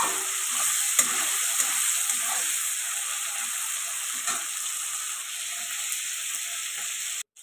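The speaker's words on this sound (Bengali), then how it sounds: "ভালো করে একটু নাড়াচাড়া করতে হবে," Cabbage curry with peas stir-fries in a hot pan, giving a continuous bright sizzle and hiss with occasional scraping stirs, steady and close, ending in a brief break near the end.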